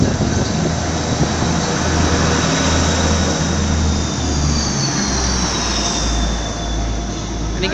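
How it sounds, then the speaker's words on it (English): A train pulls into Cardiff Central station with a loud, steady rumble and engine drone that holds for several seconds, with a faint high-pitched whine running over the top. "And you get this train coming in."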